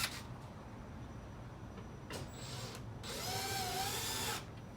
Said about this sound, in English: I grab my screw. Since it is pre-drilled, it will sit.